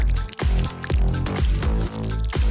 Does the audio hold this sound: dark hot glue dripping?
yes